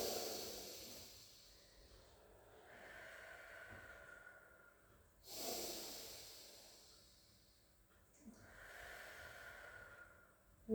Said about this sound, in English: take 3 deep in-out breaths